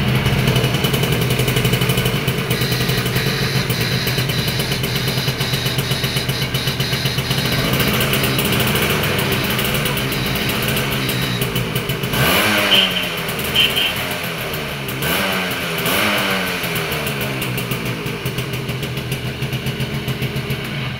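A 1984 Yamaha Deluxe motorcycle engine idles steadily up close, then revs in several rising and falling bursts before settling back to idle.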